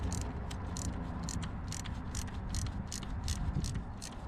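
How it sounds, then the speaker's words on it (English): A Mako ratchet fitted with a Snap-on socket turns an oil pressure sending unit, producing a steady, close run of rapid, evenly spaced clicks over a low continuous hum. "I got a snap-on socket on a Mako ratchet."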